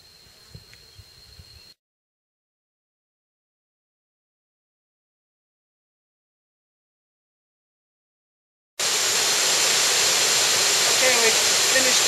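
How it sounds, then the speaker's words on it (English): A waterfall on Koh Samui roars as a loud, steady broadband rush that starts abruptly after a quiet stretch of faint rustling and a long silent gap. "we hiked down here to our beautiful waterfall"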